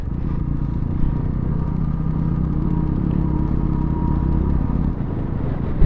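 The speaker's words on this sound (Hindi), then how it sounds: "सी लाइक दिस, हमारी गाड़ी लोड नहीं ले पा रही है." A motorcycle engine labors under load at high altitude on a Ladakh mountain route near Chang La Pass, producing a continuous loud, low rumble with rattling clatter and no speech.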